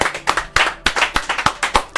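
Several hands clapping in steady rhythm during a radio broadcast, close and loud, about three to four claps per second, with little talk over it.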